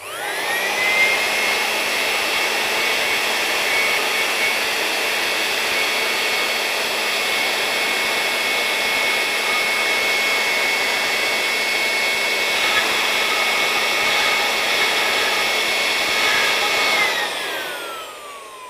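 Air forced steadily through a Bernoulli water sprayer, a loud continuous hissing rush with a whining tone, holding unbroken for about seventeen seconds before tapering off at the end.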